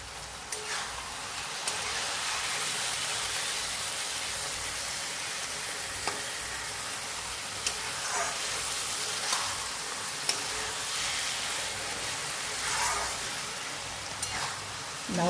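Bottle gourd with fried mourala fish simmers in a covered pan, giving off a steady, soft sizzle and bubbling hiss like light rain. Occasional louder spits and clinks break through, and brief sounds from the cook appear now and then.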